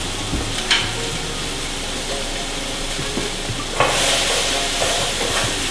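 Small chunks of beef steak sizzle in a pan for steak and ale pie, a steady hissing fry punctuated by a few stirring clinks, with the sizzle swelling louder near the end.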